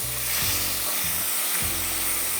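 Onion paste hits hot tempering oil and spices, producing a bright steady sizzle with low bubbling, rumbling bursts underneath that pulse a few times.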